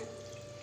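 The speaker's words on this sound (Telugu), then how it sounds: "నార్మల్ వాటర్ పోస్తున్నాను" A steady stream of plain water is poured continuously while making homemade paneer, close and fairly quiet, with no voices.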